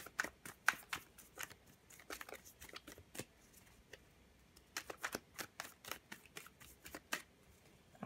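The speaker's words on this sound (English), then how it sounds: "let's go on and cut the deck for you" Tarot cards being shuffled and cut by hand, a rapid series of crisp riffling and slapping bursts in quick clusters with brief pauses, close and fairly quiet.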